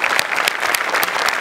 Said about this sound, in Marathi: एकदम जोरदार टाळ्या